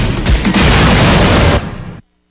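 A dense, rapid volley of gunshots in a night-time shootout with police in Antipolo, cracking together in a loud, continuous burst for about two seconds, then stopping abruptly.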